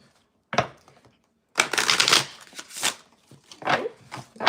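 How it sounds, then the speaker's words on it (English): Tarot cards being shuffled in the hands: quick papery riffles and slaps in a few separate bursts with pauses between, close and moderately loud, with no talk. "Do one more shuffle."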